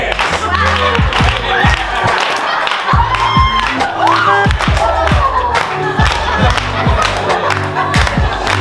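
A crowd at a retirement party claps in a steady, even rhythm, loud and close, with some cheering mixed in and no break.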